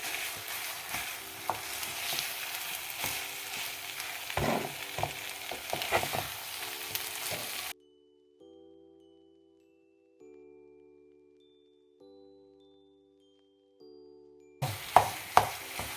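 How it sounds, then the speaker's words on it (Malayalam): A soya chunk and chicken cutlet mixture is stirred in a pan with scraping and light sizzling for about eight seconds, then falls quiet under soft music tones, and the stirring returns briefly at the end. "നല്ലോണം ഇളക്കിയിട്ട് ഇതിൽ യോജിപ്പിക്കട്ടെ"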